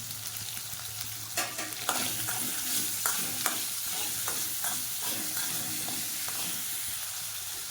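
Raw mango and tomato with salt sauté in hot oil for a mango chutney. A constant dense sizzle runs throughout, broken by frequent quick spatula scrapes and taps, close up and with no voices.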